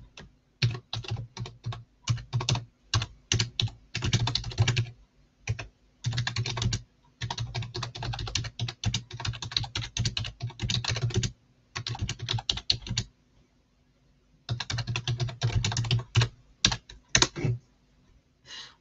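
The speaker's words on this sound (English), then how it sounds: "Let me just type a message." Someone types a message on a computer keyboard, with quick clattering keystrokes arriving in bursts separated by short pauses, fairly close and alone with no talking.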